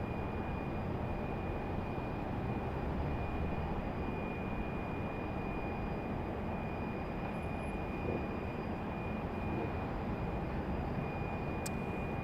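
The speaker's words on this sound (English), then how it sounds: "Taxiing out quickly." Steady, continuous jet engine roar from an airliner taxiing out at Raleigh-Durham International Airport, heard at a distance as an even rumbling wash with a faint high whine and no voices.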